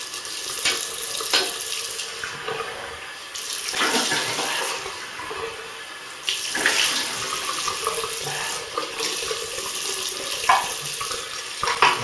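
Running tap water pours steadily into a sink for a rinse after a shave with a Merkur Futur razor and Arko cream, with splashing bursts as hands move through the stream, close and continuous.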